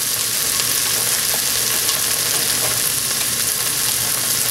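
Onions and mushrooms fry in a pan for a curry with chicken and peppers, giving a steady, close, dense sizzle with faint stirring clicks and no talking.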